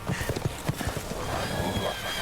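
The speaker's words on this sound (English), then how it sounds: "The zombies ride horses!" Horses in the Resident Evil Village video game gallop with rapid hoofbeat clip-clops and neighs, loud and close, amid a dense game soundscape.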